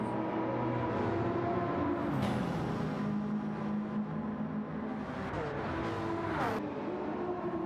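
Race cars, including a Lamborghini, streaming through a tunnel in a racing game, a steady engine drone with rising and falling pitch sweeps as cars close in and pass, with a sharp whoosh near the end.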